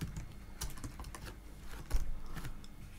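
A computer keyboard is tapped while Java code is entered: soft, irregular keystrokes and a couple of firmer hits over a steady low room hum, with no voices.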